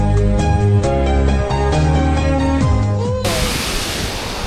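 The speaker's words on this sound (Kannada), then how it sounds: "ನೋಡಿ, ಇದು ಡೋಂಗೇನಹಳ್ಳಿ ಫಾಲ್ಸ್" Dongenahalli waterfall on a highway near Sakleshpura during the monsoon: music plays for the first few seconds, then gives way to a steady, loud, broadband rushing roar of falling water that fills the end of the clip.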